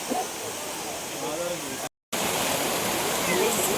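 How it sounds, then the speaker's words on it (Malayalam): Thusharagiri waterfall in Kozhikode roars as a steady broadband rush of falling water, close and constant, briefly cut out mid-way, with a voice speaking faintly beneath it. "അപ്പം താഴെ വെള്ളച്ചാട്ടത്തിലെത്തി"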